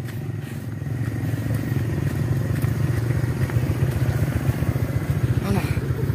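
Motorcycle engine churning steadily on an extreme, rough riverside track, with clattering and scraping over uneven ground, fairly close and continuous throughout.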